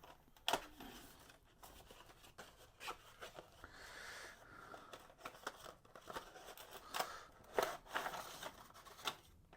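A 1:12 scale diecast motorcycle model is eased out of its plastic pack, giving close crinkly rustling, scraping rubs and a few sharp clicks in irregular bursts, with no talking.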